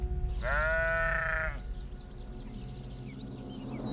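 A bighorn sheep in Yellowstone's dry, rugged mountain terrain gives one loud, close, wavering bleat lasting about a second, followed by quiet outdoor ambience.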